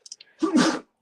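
A single short, sharp human sneeze close by, preceded by a few tiny faint clicks, then silence.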